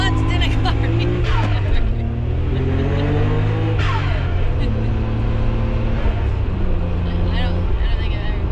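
A 500 hp Nissan Skyline R32 GTR with lowered stance, heard from inside as it launches from standstill, the engine revving and rising through gears in a loud, droning climb while occupants talk over it.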